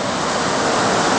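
Creek floodwater rushes during a January rain event, a loud, dense, steady roar of flowing water filling a yard corner, heard alone without talk.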